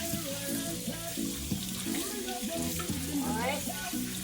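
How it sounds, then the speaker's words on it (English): Tap water runs and splashes in a kitchen sink as a potato is washed for Jamaican curry goat, a steady close hiss with rattling bumps and clatter from handling. "let's wash our potato"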